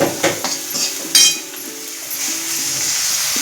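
Water pours into a hot pan of Maggi masala with peas, tomato and coriander, raising a close hiss and sizzle after a few sharp clinks of a spoon, the bubbling settling into a steady simmer.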